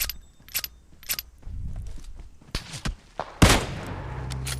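Sharp, separate gunshots crack out at a distance in the video game PUBG, tap-fired in a spaced sequence and mixed with faint footsteps and equipment clatter.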